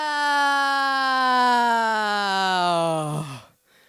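A human voice imitates a siren in a sustained toning exercise, a single loud, harmonic-rich tone that slides slowly downward for about three seconds and then fades out.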